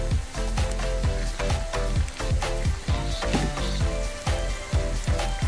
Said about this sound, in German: Und hier mit den Zwiebeln vermischen und ein wenig anbraten.